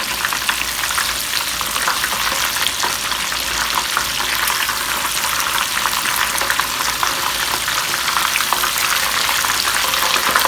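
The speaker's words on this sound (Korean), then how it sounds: "노릇노릇하게 이제 될 때까지 색깔이 누렇게 나올 때까지 튀기셔야 돼요." Oil crackles and sizzles steadily as pork cutlets deep-fry, a dense, continuous hiss of popping bubbles with no voices.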